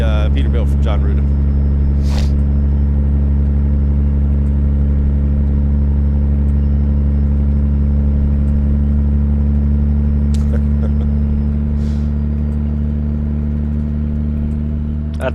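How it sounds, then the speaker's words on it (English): Custom Peterbilt 389 heavy-haul truck engine in a truck-driving simulator game, a loud steady low diesel drone running throughout with a few faint clicks above it. "this is the Peterbilt from John Ruda"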